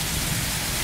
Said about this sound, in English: there's just rain pouring down right here, there's a bunch of puddles everywhere, yeah, there's basically a rainstorm